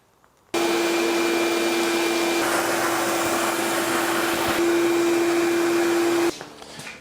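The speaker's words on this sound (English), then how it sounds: "Always make sure you vacuum up your filings, your metal filings" A vacuum cleaner switches on and runs loudly with a steady high whine while sucking up metal filings in a workshop during a generator wheel upgrade, then cuts off near the end.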